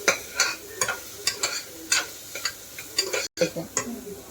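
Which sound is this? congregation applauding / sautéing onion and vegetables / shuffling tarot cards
sautéing onion and vegetables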